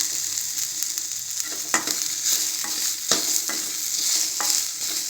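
Tomato sautés in a hot pan for a bitter gourd tamarind curry, a steady close sizzle broken by several sharp stirring scrapes, with no talking.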